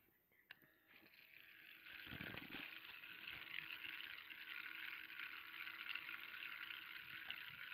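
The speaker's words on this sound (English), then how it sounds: "so it sounds like water falling" A small tabletop meditation fountain trickles and splashes, a soft continuous wash of falling water that swells in after a click and stays faint and steady.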